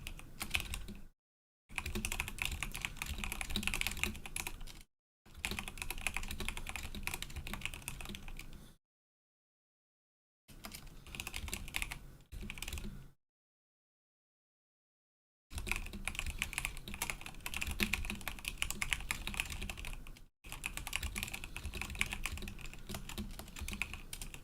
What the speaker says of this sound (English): I'm just typing for days, aren't I?